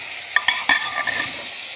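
Green peas curry being stirred in a pot, a few scraping clinks of the spoon over a soft steady sizzle, close and fairly quiet with no voices.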